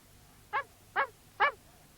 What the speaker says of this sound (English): He just kept on barking